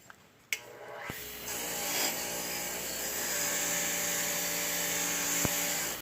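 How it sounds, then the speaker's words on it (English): A wire wheel scours forge scale from heat-treated blades with a continuous high whirring grind after a brief start-up. It holds steady and fairly loud to the end, with a couple of sharp ticks, and no talking. "I'm going to wire wheel them off because I still have the scale and all that on them from the heat treat and the forging"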